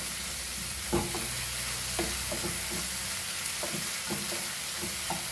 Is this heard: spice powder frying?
yes